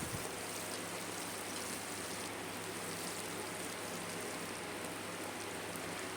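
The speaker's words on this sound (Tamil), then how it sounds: "வெங்காயம் நல்லா பொன்னிறமாக வதங்கி வரணும்," Chopped onions fry in a pan while a Tamil paruppu kulambu, a lentil curry, is cooked. A steady, dense hiss of sizzling oil runs unbroken throughout, with no one talking.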